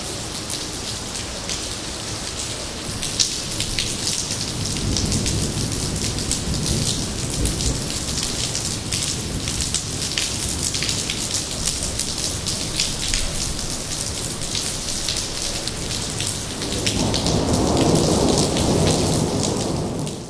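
Steady rain pours down, hissing and pattering on surfaces close by, with low rumbles of thunder rolling in twice, louder near the end; no voices are heard.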